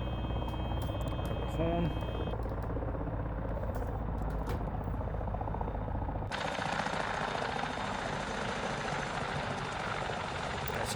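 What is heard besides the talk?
helicopter idling in a flight simulator video game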